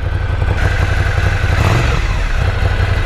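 A Ducati Scrambler motorcycle engine running steadily up close after starting, with a loud continuous mechanical rumble and clatter and no talking.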